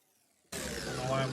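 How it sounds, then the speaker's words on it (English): A handheld grinder bites into a piece of metal, starting abruptly after a moment of near silence and continuing as a steady, fairly close, harsh grinding whine. "I'm gonna grind some off here"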